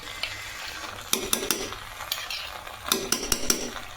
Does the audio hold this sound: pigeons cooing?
no